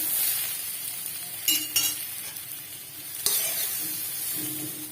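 Bitter gourd frying in ghee, a steady close hiss of sizzling broken by a few light clinks from a utensil.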